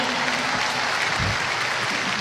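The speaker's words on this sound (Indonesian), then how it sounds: "Tepuk tangan yang meriah untuk Ibu Risma." A brief burst of steady audience applause for Indonesian politician Tri Rismaharini, dense and even throughout with no speech over it.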